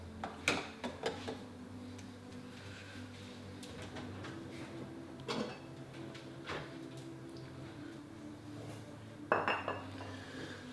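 Clinks and knocks of a regular kitchen bowl being taken out and set down on a counter, a few separate close clatters against a quiet room with no talking.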